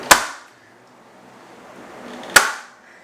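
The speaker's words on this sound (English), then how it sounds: "Sorry for the loud gun." Two sharp, loud staple gun shots about two seconds apart, fastening canvas to a frame while building a large canvas, each a close snap followed by quiet.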